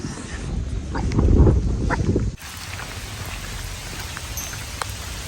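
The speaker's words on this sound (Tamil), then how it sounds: "மக்களே மழை பெய்யுது" Steady rain falling outdoors at the ancient city of Anuradhapura, a dense hiss heavier and closer at first, then continuing as an even patter after an abrupt drop in level.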